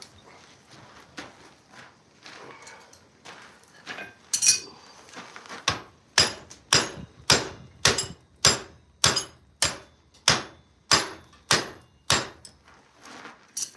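A blacksmith hammers a metal piece clamped in a vise to bend it. Sharp ringing blows come at first as a few scattered strikes, then settle into a steady run of about a dozen loud, evenly spaced hits close by.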